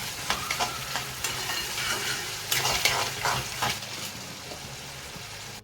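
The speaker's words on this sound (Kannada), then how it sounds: "ಇದೆಲ್ಲ ಹಾಕಿ ಚೆನ್ನಾಗಿ ಮಿಕ್ಸ್ ಮಾಡಿ ಸ್ವಲ್ಪ ಕುದಿಸ್ಬಿಟ್ರೆ ಒಗ್ಗರಣೆ ರೆಡಿ ಆಗುತ್ತೆ." An Indian tempering of spices and a little tamarind sizzles in a pan while it is stirred, giving a continuous close crackle with scraping bursts and no speech.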